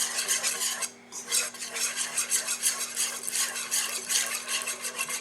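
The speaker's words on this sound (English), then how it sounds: "Then we need to slowly whisk in our cup of milk, or in my case, homemade buttermilk." A whisk scrapes and stirs briskly in a mixing bowl as milk is worked into flour for French toast batter, rapid rhythmic clinking strokes up close with a brief pause near the start.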